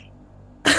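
A narrator's voice imitates a character coughing and spitting blood onto polished wooden floors: a single short, loud, breathy cough burst that follows a quiet, near-silent stretch.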